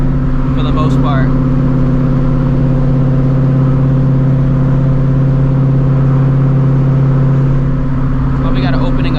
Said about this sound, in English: It only drones when my foot's on the gas.